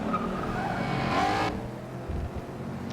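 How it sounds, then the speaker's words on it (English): Tires squeal briefly in the Forza racing game as a car turns through a corner at Le Mans, a sharp screech over the engine's drone that cuts off abruptly. "all you have to do is touch the thumbstick to turn, and all these squealing noises come out"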